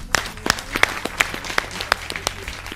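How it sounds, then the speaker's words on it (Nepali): Studio audience at a Nepal Idol singing competition clapping, with a scattered, uneven patter of hands close by and a low murmur of voices beneath. "एकपटक तपाईँहरू आफैले आफ्नै लागि ताली बजाइदिनुहोस् त प्लिज"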